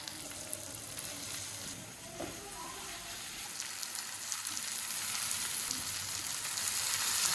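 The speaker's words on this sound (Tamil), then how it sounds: "வெங்காயம் நல்லா வதங்கிடுச்சு இப்போ மசாலா செய்த கத்திரிக்காவை அதோட சேர்த்துக்கலாம்" Masala-coated eggplant goes into a pan of sautéed onions for kathirikai varuval, raising a steady, crackling sizzle of frying that grows slightly louder toward the end.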